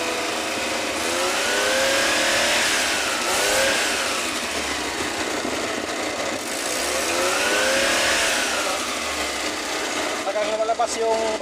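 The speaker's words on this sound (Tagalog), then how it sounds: "Saka pagka-apply natin ng accelerator" A Suzuki F6A car engine with bubbles in its radiator revs up and down in long repeated swells of rising pitch, loud and close, with a steady roar between the pushes.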